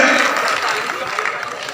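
A crowd claps steadily through a commemoration of Sardar Patel's birth anniversary, a dense, even wash of applause that holds at one level from start to finish with no talk over it.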